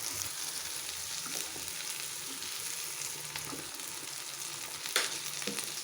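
Fish fries in hot oil Chettinad style, a steady close sizzle and crackle running throughout with a brief sharper pop near the end and no voices.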